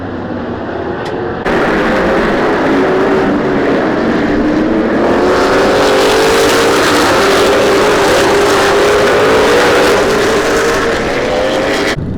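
A BMW E36 drift car doing donuts at an autofest, its engine revving hard and holding a loud, sustained wailing note with tire roar, close and continuous.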